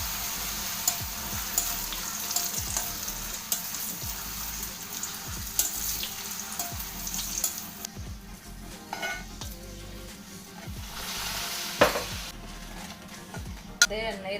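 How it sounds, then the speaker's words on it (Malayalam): Pappadam frying in hot coconut oil, a steady crackling sizzle that fills the background throughout with small bubbling pops, softening partway through, with faint kitchen clatter. "പപ്പടം വറുത്തെടുക്കുക."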